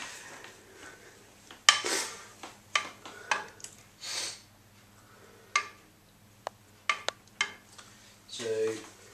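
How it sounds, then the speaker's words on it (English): SeaNanner pudding mixture being stirred in a bowl, scattered clinks and scrapes of a spoon against the dish coming in irregular bursts with quiet gaps between, fairly close and soft. "Once you've done that, you want to stir it well again."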